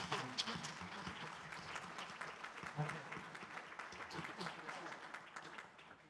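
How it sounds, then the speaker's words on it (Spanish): Audience applause at a book launch for the work El Gran Engaño Generacional, a steady dense patter of many hands clapping continuously throughout, moderately loud, with no talk over it. "Así que brindemos un fuerte aplauso a Marco Nájera"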